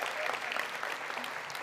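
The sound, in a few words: audience applause at school district address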